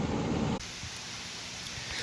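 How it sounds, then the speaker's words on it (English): Steady broadband hiss of rain falling outdoors, loud and continuous with no voices, after a brief denser burst at the start. "so it's raining right now"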